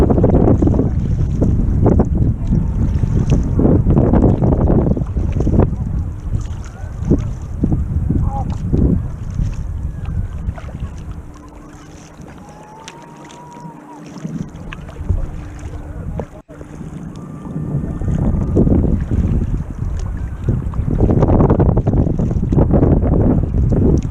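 Kayak or canoe paddling across open water in Middle Harbour, with steady wind buffeting the microphone throughout and soft water sloshing and paddle splashes underneath, easing briefly in the middle before the wind roar returns.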